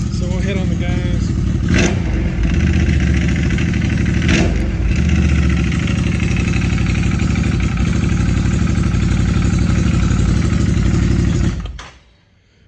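An ATV engine revs in neutral, loud and close, a steady throaty drone with a couple of brief throttle blips before it cuts off near the end.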